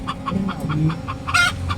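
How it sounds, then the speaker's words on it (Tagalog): A chicken clucks in a steady series of short calls, fairly close, with a louder squawk near the end over faint background noise. "May nangitlog na manok, oh."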